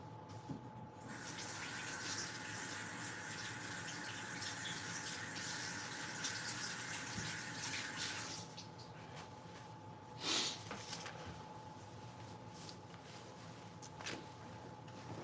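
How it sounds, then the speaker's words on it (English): Tap water runs steadily over a kitchen knife being quickly washed while cooking, a continuous close splash for about eight seconds that then cuts off, followed by a few faint clinks in a quiet kitchen. "This knife, quickly washed."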